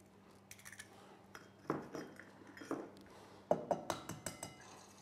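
Eggs cracked and dropped into a bowl of lemon zest and sugar, giving a run of light clinks and taps against the dish, sparse at first and then quicker, close and fairly quiet, with no talking.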